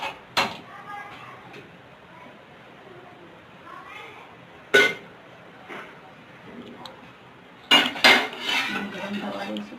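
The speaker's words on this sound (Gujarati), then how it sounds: "હવે આપણે એક પેન મૂકીશું," A pan is set on a kitchen stove while preparing sambar, with a few sharp metallic clanks and clatters of cookware spaced apart, against quiet background.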